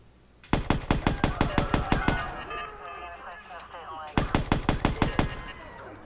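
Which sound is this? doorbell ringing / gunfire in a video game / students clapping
gunfire in a video game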